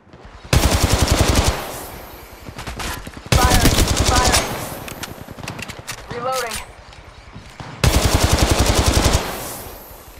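Machine-gun fire in Apex Legends Mobile, played on an iPhone 13, comes in three long, loud, rapid bursts of a second or more each, with clipped game voice callouts and quieter combat sounds in the gaps between.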